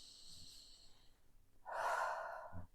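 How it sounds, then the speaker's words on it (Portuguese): Slow, audible breaths in a calm anxiety-relief exercise: a soft exhale, then a long, deep inhale into the belly, close and quiet with no talking. "Tenta respirar com a barriga."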